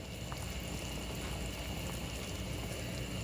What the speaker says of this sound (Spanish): Miren, este arroz ya está hirviendo.